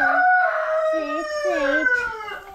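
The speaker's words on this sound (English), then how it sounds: "Vaughn, this back chicken is mine" A farm chicken crows loudly close by in a long, wavering cock-a-doodle-doo, followed by shorter clucking calls, with no talking over it.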